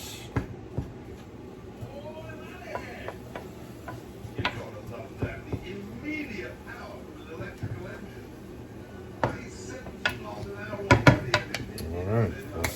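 Food being stirred in a pan while risotto is made: scattered scrapes and clinks of a utensil against the pan, close and irregular, with a few louder knocks near the end and speech in the background.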